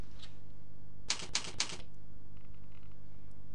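Short burst of keystrokes on a computer keyboard, three quick clustered clicks close up against a quiet room background with no voices.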